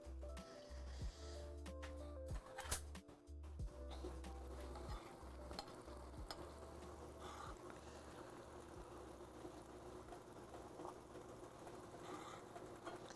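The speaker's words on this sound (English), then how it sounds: "Almost like caramelized onions is what this is now" Onions fry and caramelize in a pan with a soft, steady sizzle, broken early on by a few sharp clicks and scrapes of stirring, fairly faint throughout.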